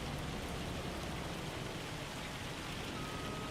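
Hail pelting down steadily in the Farming Simulator video game, a dense, even patter of small hard impacts like heavy rain on a surface, continuous and alone without voices.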